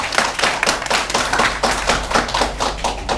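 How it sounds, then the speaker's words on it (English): Clapping from an audience at a stage performance, with distinct, fairly close hand claps repeating in a loose rhythm of several strikes per second, loud and uninterrupted by speech. "Everyone give him a big round of applause."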